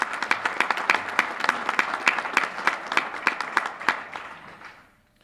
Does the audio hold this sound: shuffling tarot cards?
no